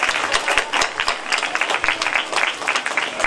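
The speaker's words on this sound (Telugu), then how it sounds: "చప్పట్లు చప్పట్లు కొట్టండి" A crowd applauds at a village Ambedkar Jayanti celebration in Ponnamanda during a medal and book presentation, with dense, steady clapping close by for a few seconds without a break.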